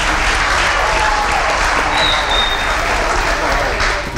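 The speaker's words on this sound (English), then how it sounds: "a round of applause" A studio audience at a talk show bursts into loud, dense applause that holds steady for about four seconds, with many hands clapping close to the microphone.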